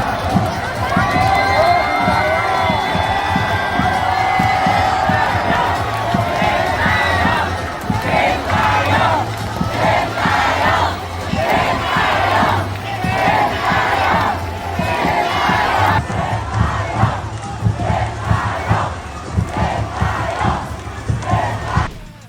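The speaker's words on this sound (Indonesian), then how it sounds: "Hingga namanya terus diululukan oleh fans Garuda" Stadium crowd of Indonesian national team fans cheering and chanting the coach's name, a loud massed roar with rhythmic shouted chants repeating throughout, sustained and close.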